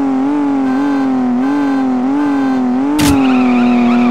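A car engine holds a steady revving drone as it accelerates in CSR Racing, with a sharp burst and slight pitch rise near the end, as if shifting gear.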